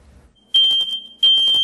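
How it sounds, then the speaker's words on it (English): Two loud, shrill electronic beeps from a smoke detector, each lasting over half a second, separated by a short pause after a quiet start. "The warning sound of a smoke detector is a critical part of the story"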